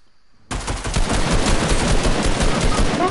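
Video game gunfire breaks out suddenly after a short quiet moment, then keeps going as loud, dense, continuous automatic shooting with no voices over it.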